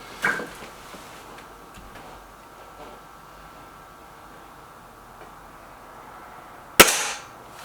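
A single sharp air rifle shot cracks out near the end, loud and close after a stretch of quiet background, from a target shooting contest between a Gamo Whisper Sting and an SMK XS36.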